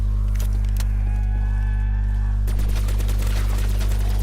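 Gunfire in Call of Duty zombies on the Kino Der Toten map: after a tonal lull, a loud rapid burst of automatic shots rattles on for the last couple of seconds over a heavy constant hum.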